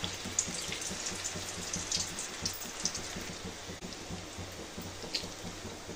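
Rice flour pakodi batter dropped into hot oil and frying, a steady dense sizzle with crackling pops throughout, fairly quiet and unbroken.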